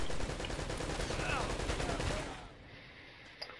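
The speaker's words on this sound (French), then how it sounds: "le flingue de l'inspecteur Harry là il fait trop mal" Magnum revolver gunfire in the video game Uncharted: Drake's Fortune, a dense run of loud shots with game noise that fades out, followed by one faint late crack.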